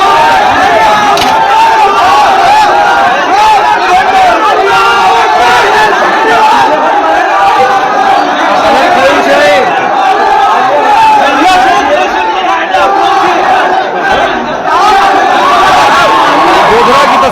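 A rioting crowd gathers at a police station, roused by an inflammatory post. A loud, unbroken roar of shouting and overlapping voices runs steadily throughout.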